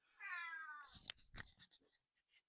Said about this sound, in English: that's my cat Carmela.